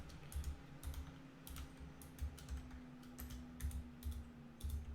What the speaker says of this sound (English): Then we just type in.